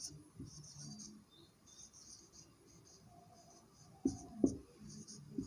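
Pen writing a geometry theorem by hand on paper, a soft, steady scratching of strokes at low volume, with a couple of louder taps or scrapes near the end.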